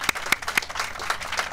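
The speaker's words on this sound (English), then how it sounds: "please raise your hand so we can give you a round of applause" Audience members clap in a short burst of applause, a few sharp claps standing out near the start over a dense patter of hands, with no talking.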